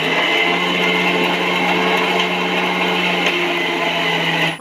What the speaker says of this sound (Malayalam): അപ്പം ഞാൻ അരച്ചെടുക്കുകയാണ് കേട്ടോ.